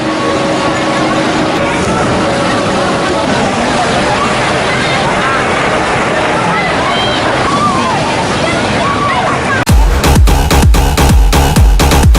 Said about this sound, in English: Going to the Loch Flume by herself. Have fun getting splashed.